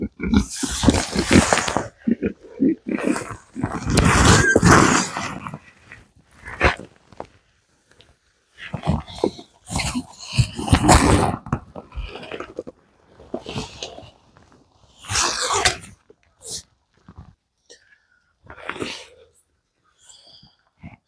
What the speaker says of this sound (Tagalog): papakainin ko muna yung baboy and we can continue.